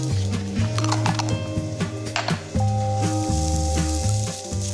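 Garlic sizzling in hot peanut oil in a pan for a breakfast of spiced red lentils, a steady bright crackle running throughout with no one speaking, while a soft music bed plays underneath.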